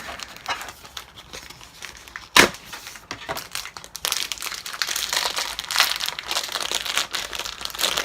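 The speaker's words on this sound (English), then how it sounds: "let's put the scent pack inside him" A Scentsy scent pack's plastic packaging is handled and opened, with soft crinkling that turns into dense, continuous close-up crumpling after a sharp snap partway through.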